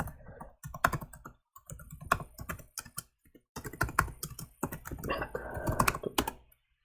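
Close, quiet typing on a computer keyboard, with irregular bursts of clicky keystrokes and short pauses as a command is entered.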